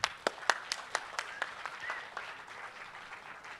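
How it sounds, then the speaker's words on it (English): Audience applause at a university orientation event, starting with a few sharp separate claps that thicken into a short burst of clapping and then fade to scattered hands, moderately close in a large hall. "Can we have a big round of applause?"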